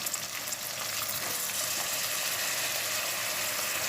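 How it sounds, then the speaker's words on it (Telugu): Tempering spices crackle and sizzle in hot oil in a pan with fried onion pieces, giving a steady, moderately quiet frying hiss with scattered pops and no voices. "ఉల్లిపాయ ముక్కలు వేగిపోయినాయి కదా తాలింపు వేసేస్తున్నాను"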